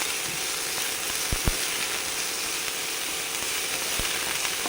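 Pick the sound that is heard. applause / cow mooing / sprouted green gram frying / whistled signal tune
sprouted green gram frying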